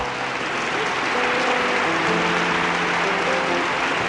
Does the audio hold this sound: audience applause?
yes